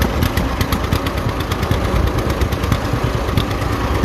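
An old tractor engine, left sitting unused with a manure spreader attached and its carburetor loaded up, runs loud and close with a rough, uneven chugging rumble that holds steady throughout.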